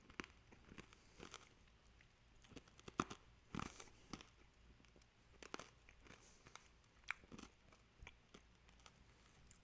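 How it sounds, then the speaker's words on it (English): Hard Japanese green tea flavored candy crunches and cracks between the teeth in faint, irregular bites close up, with no talking. "You might be able to hear the crunching."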